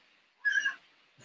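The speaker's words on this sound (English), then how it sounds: "the cat's really into this conversation" A single cat's meow, short and fairly clear, rises out of a quiet room with faint background hum before and after it.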